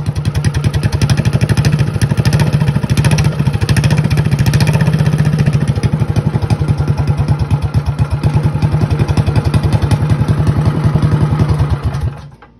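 A mini bike fitted with a Prairie engine and a very loud pipe revs hard, a steady, rapid, close-up engine pulse with rattly clatter for about twelve seconds before cutting off.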